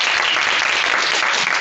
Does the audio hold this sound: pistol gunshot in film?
no